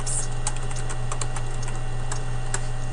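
Quick, irregular clicks of fingers typing a short phrase on a computer keyboard into a text box, close and clear over a faint steady hum.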